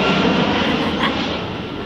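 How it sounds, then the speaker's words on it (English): A fixed-wing airplane passes overhead, a loud, steady broadband engine roar filling the clip outdoors with no talk. "That is a plane flying."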